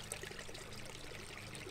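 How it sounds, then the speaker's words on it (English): Water trickles and pours steadily from a small backyard pond waterfall, a constant close splashing wash with no pauses and no voices. "the most white trash waterfall pond situation you ever seen"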